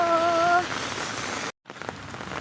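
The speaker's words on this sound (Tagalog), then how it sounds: "ang lakas pa din ng ulan" Heavy morning rain in Abu Dhabi pours steadily in a dense hiss, briefly cut off by a short gap before the downpour continues, with a faint tonal sound early on.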